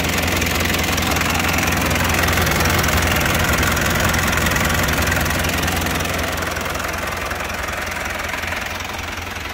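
A 1983 Taft F50 Hunter 4x4 diesel idles close by with a loud, steady, clattering rumble and an even knock, fading slightly toward the end.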